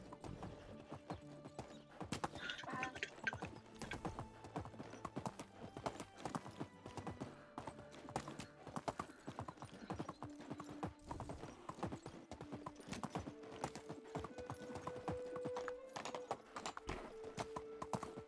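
Steady hoofbeats of a ridden donkey in the video game Medieval Dynasty, a continuous quick clip-clop rhythm that stays even and fairly faint over quiet ambient game sound.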